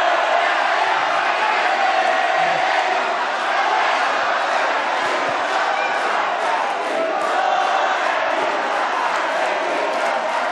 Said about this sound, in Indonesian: Sekarang baru boleh Bapak Ibu kasih tepuk tangan yel-yel, silahkan.